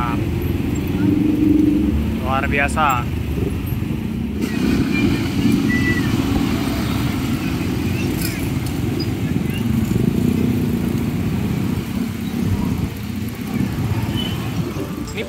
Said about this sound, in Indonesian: Wow, ada truk sampah teman-teman